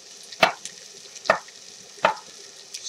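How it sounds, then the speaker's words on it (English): Onions and garlic cooking in a soup pot over medium heat, heard as a few sharp, evenly spaced knocks and scrapes of a utensil against the pot over a faint background hiss, with no talking. "Sweat those onions down, get that garlic infused."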